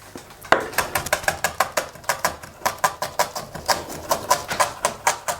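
A knife chops rapidly and rhythmically on a cutting board while preparing cervelle de canut, a French herbed cheese dip: a steady train of crisp close taps, loud and alone, after a brief quiet start.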